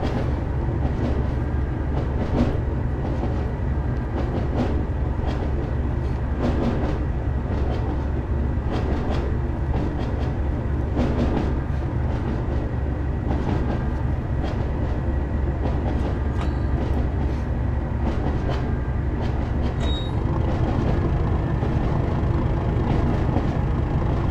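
A Class 37 diesel locomotive accelerates in the Train Sim World game on the West Somerset Railway between Minehead and Williton, a loud continuous engine roar with steady rail rumble and faint wheel clatter throughout.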